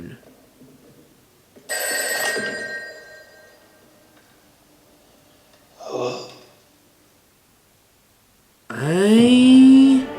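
Telephone ringing in short bursts with a gap between them, followed by voices and a rising sound at the end; the ring is moderately loud and close.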